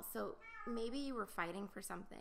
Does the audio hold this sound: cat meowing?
yes